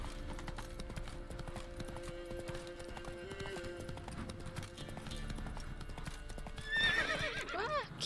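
Hooves of Roach the horse in Witcher 3 clip-clop steadily at a moderate distance, and the horse gives a sharp whinny near the end, with faint background game sounds.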